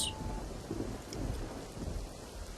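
Thunderstorm with steady rain and wind, a continuous wash of rainfall under low rumbling thunder, even and moderately loud throughout with no voices.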